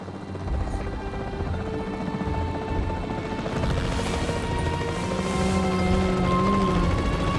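A capture team helicopter in the dinosaur park video game Jurassic World Evolution 3 gives a loud, continuous rotor drone that holds steady and grows slightly stronger, mixed with game sound effects and no speech.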